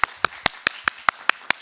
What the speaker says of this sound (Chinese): 我们拍拍手好不好啊，拍拍手欢迎主耶稣